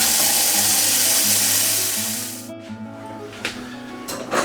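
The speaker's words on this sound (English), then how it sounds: "having flushed my bottles out with some ordinary tap water" Tap water rushing as it flushes out ink refill bottles for an Epson EcoTank L3150 printer, a loud, steady hiss of running water that cuts off midway, followed by quieter clunks and handling noises.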